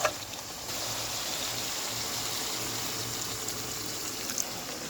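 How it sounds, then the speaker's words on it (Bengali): Hot water pours into a pan of liver and potato curry in one continuous, even gushing stream lasting several seconds, with no one talking. "ঝোলের জন্য গরম পানিটা দিয়ে দেবো"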